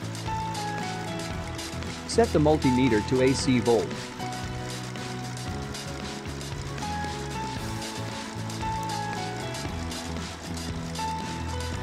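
A Mercedes engine idling during diagnosis of a loss of power on uphill roads, with the fuel injection pump under test. It gives a steady, even mechanical hum throughout while someone speaks over it.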